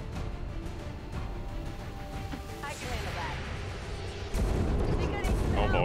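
Gunfire in modded XCOM 2: War of the Chosen during a black-site infiltration mission: heavy booming shots blend into a dense, continuous roar of battle noise that grows louder near the end, with faint voice-like sounds mixed in.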